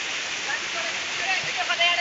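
Steady broadband rush of a waterfall at Kalapata hill plunging about 200 feet, a continuous hiss of falling water close by with faint tonal streaks over it.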